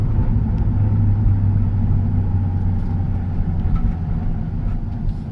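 A Nissan 350Z engine holds a loud, deep, steady drone close by, with only slight swells in pitch and no pauses, continuous throughout.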